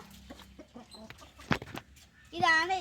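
Two hens cluck in short, choppy bursts close by, ending with a louder, drawn-out hen call.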